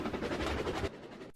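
A train running in Trainz Railroad Simulator 2019 gives a rumbling, rolling clatter for just under a second, then cuts off abruptly into near silence.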